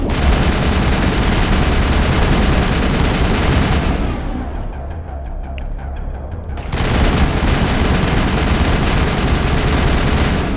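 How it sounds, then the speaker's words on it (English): Heavy energy blasts from shock troopers in the Mass Effect video game, a dense, loud barrage of booming gunfire-like impacts that fills the clip, briefly dropping to a muffled lull midway before resuming at full force. "I don't think those were actually rockets, but just heavy blasts that the shock troopers send out"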